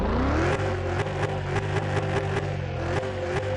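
A car engine in the Car Mechanic 21 video game idles and revs, a steady mid-pitched drone punctuated by regular clicking pulses as the revs rise slightly, loud and close with no talking.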